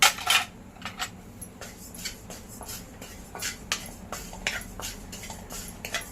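Whole cumin seeds dry roasted in a pan rattle and scrape under a stirring spoon, with quiet repeated clinks and shuffling bursts at an uneven rhythm, close and fairly soft.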